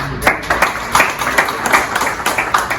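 Audience at a flood-relief fundraising event in Canada claps steadily, a close, uneven patter of individual hands rather than a roaring crowd, continuing throughout.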